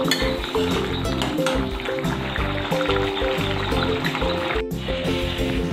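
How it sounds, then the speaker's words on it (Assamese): Fried fish pieces slide into thickened simmering gravy in a pan, with a soft clink and bubbling, then a sharp clatter as a lid goes on near the end, all over steady background music. "এতিয়া মই মাছখিনি ভাজি লোৱা মাছখিনি দি দিলোঁ আৰু এখন ঢাকন দি দিলোঁ"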